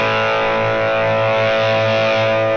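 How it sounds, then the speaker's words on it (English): Heavily distorted guitar amp tone from a boost amp setting in Ableton Live, a sustained, buzzy, saturated chord ringing loud and alone with steady level. "we just get more distortion"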